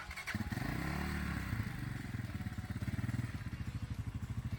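A Geon motorcycle engine with a weak, aging battery cranks and catches, then settles into a steady, loud idle with a rapid rhythmic chug close by.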